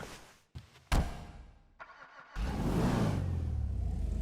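A muscle car engine from GTA Online, the Dominator, cranks and catches after a few sharp mechanical clunks, then settles into a deep, loud, rumbling idle up close.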